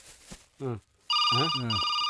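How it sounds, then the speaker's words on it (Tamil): A telephone bell rings loudly in a steady trill right after a couple of short spoken phrases, continuing to the end. "ஃபோன் அடிக்குது பாரு"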